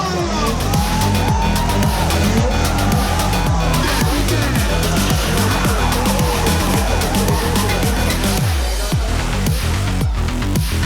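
Loud engines rev repeatedly while tires squeal and skid in rhythmic bursts, a continuous roar of a car stunt run at a motor festival in Dhaka, with crowd noise underneath.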